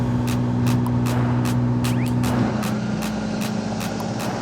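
A loud JDM car engine, with its misfire repaired, drones steadily and close with a strong low hum and faint periodic ticks, no voices over it.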